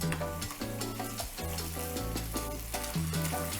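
Potatoes fry in olive oil in a pan over gentle heat, giving a steady, close sizzle that runs without a break for a few seconds, with some tonal background sound underneath.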